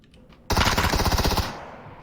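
A sudden, loud burst of rapid gunfire in PUBG lasts about a second and then fades into a short echoing tail.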